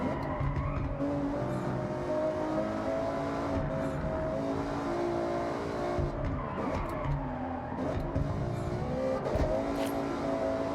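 A car in the Forza Horizon 6 racing game braking hard, with sustained tire squeal and skidding over engine noise, loud and continuous throughout.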